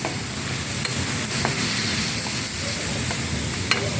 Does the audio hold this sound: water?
no